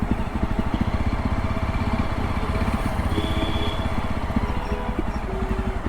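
A motorcycle engine idles or runs at low speed near a Hanuman temple in Connaught Place, Delhi, with a steady close putter throughout. The bike is said to have trouble.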